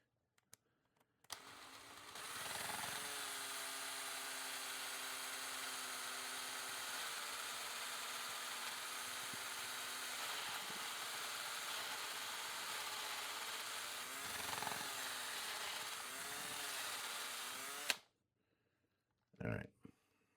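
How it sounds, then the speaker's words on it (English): Power drill with a step bit boring through a plastic airgun buttstock on a Umarex TR68, a close, loud, steady whine and grinding lasting about fifteen seconds with small pitch dips, then stopping, followed by a brief clunk. "It looks like I'm going to have to drill it bigger than this plastic area."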